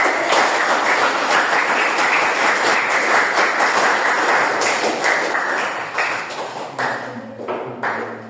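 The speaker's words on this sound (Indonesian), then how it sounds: "Kita tepuk tangan untuk kita semua." A classroom of students claps together in a guidance lesson, a loud, dense, continuous round of applause that tapers off near the end, with a few brief voices and taps.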